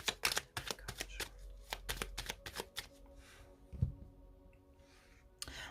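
Tarot cards are shuffled in a quick run of crisp riffling flicks, then cut and set down, with a soft thump and quieter handling afterward; close and fairly faint.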